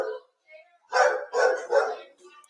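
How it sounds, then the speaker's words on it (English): A dog barks in three loud, closely spaced bursts during a call, after a brief faint voice, with a menagerie of animals in the home. "Tammy, we can't hear you because of the dog."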